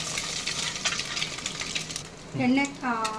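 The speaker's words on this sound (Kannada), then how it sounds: "ಎಣ್ಣೆಲಿ ಸ್ವಲ್ಪ ಮೊಟ್ಟೆ ಬ್ರೌನಿಶ್ ಬರೋ ತನಕ ಹುರ್ಕೊಬೇಕು" Eggs fry in oil until browned in a home kitchen, a steady close sizzle with stirring scrapes, and a voice speaks briefly near the end.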